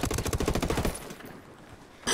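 Fully automatic gunfire from a rifle in Ghost Recon Wildlands, a rapid, loud, evenly spaced burst lasting about a second, then a quieter stretch of game ambience before another loud burst starts at the end.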